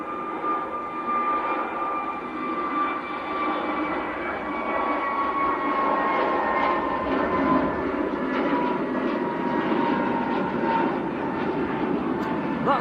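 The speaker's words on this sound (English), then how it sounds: "That's one of EasyJet's newer aircraft, Golf Zulu X-Ray India Bravo, brand new A321Neo. That's off to Malta" A brand new EasyJet Airbus A321neo departs Manchester airport, a loud sustained jet engine roar that holds steady throughout, with a faint voice talking over it.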